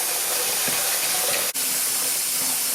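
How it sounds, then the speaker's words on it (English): Water runs steadily into a sink basin being filled toward its overflow drain, a continuous broadband rush with one brief click partway through. "Just fill it all the way up to the overflow drain and see if the overflow drain works?"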